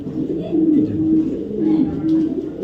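Racing pigeons coo in low, repeated throaty phrases, close and steady across the clip, with no talk over them.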